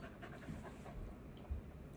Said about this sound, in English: Look how big that dog is.